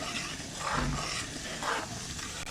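Semolina roasting in ghee in a pan for sooji halwa, a soft steady sizzle with faint scraping stir strokes, close and fairly quiet, with no talk.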